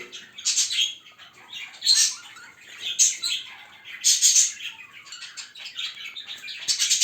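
Budgerigars and their chicks chirp and chatter in a breeding cage in repeated bright bursts about once a second, fairly close and lively, with no talking.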